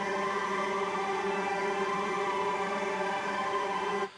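A taped synth patch on a Nord Stage 4, sampled from a really old record, holds a steady, dense sustained chord with rich overtones, loud and unbroken for about four seconds before cutting off abruptly.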